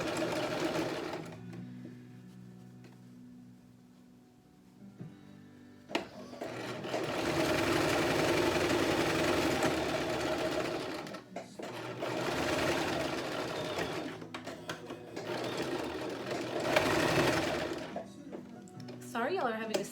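A sewing machine stitches a cotton face mask in a home craft room, running in several loud sustained bursts separated by short pauses, with a voice heard briefly between the runs.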